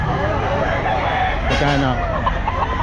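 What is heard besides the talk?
Black Spartan rooster crowing and clucking at a pet market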